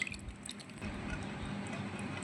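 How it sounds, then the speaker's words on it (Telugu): Tamarind extract is poured into a fish curry gravy, giving a faint, soft trickle with small drips and wet squishes close by. "పిసికిన తర్వాత దీంట్లో పోసుకుందాం ఫ్రెండ్స్ ఈ గ్రేవీ"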